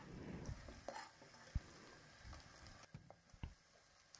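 Chopped onions frying in leftover oil from besan boondi, a faint low sizzle with soft scattered spoon-and-pan knocks, heard close and alone.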